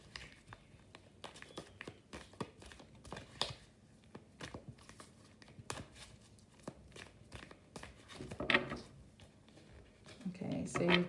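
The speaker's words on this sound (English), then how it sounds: "If the shuffling's really loud, I'm sorry guys, you might have to pop the volume down while I'm shuffling." Tarot cards are shuffled close by in quick, irregular bursts of papery snaps and riffles, with soft taps between them and the sound getting busier toward the end.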